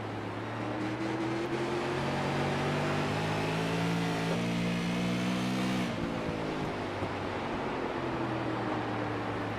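Race car engine from an onboard camera in a Coffee Cup Racing League Espresso Super Series sim race, a steady loud drone with rising and falling pitch through gear changes, close and continuous throughout with no talk.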